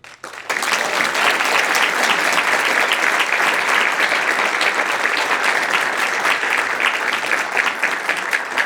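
A lecture audience in Chicago claps steadily and loudly to welcome the speaker to the stage, a dense, sustained ovation lasting several seconds with no voices over it.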